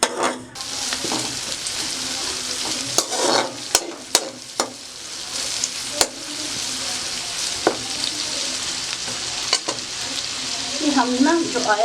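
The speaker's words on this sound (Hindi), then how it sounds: "लाइट सा ब्राउन करना है, इसे डार्क ब्राउन नहीं करना, हल्का सा सौते करना है।" Onion sautés in mustard oil in a pan, a continuous close hiss and sizzle broken by sharp clicks of stirring against the pan and a louder sputter near the end.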